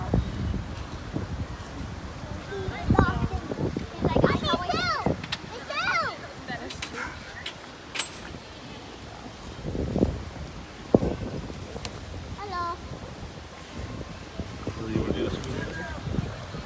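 Steady gusty wind rushes across an outdoor microphone at an oceanfront resort on Oahu, Hawaii, with voices talking intermittently over the blowing noise.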